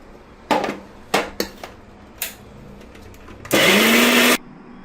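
A kitchen mixer grinder whirs loudly for about a second while grinding ingredients for a double bean curry, preceded by several sharp knocks and clatters of jar and lid being handled, close and alone.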